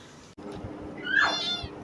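A single close cat meow rises and falls over a quiet room background and is preceded by a brief click.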